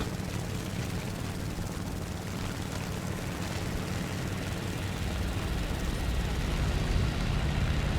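Ki-27 Otsu fighter in flight in War Thunder, stock and unupgraded: a continuous, dense propeller-engine drone with steady rushing air noise, loud and unbroken throughout.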